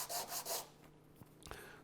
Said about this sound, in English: So I'm just ever so slightly sanding those edges a little bit.